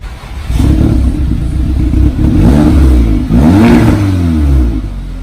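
An Audi S3 8V with its resonator deleted and exhaust valves open revs hard several times, the close, loud engine note climbing and falling in sweeping pitch bursts over a steady idle.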